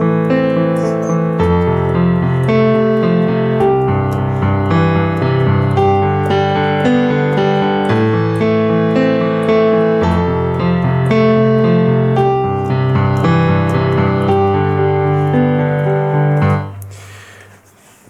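Piano improvisation played with uneven balance between the hands, a dense sustained run of chords and melody lasting about sixteen seconds, loud and continuous before cutting off abruptly into a short quiet tail.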